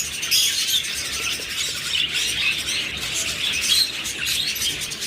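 Farm-raised birds with several chicks, a dense chorus of overlapping chirps and squawks, steady and fairly close, with no voices.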